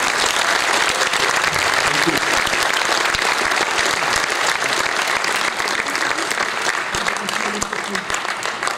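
Sustained, loud applause from an award ceremony audience, thick continuous clapping that stays even throughout, with voices faintly audible beneath it.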